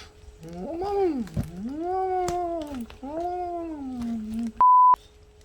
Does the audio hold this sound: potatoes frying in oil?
no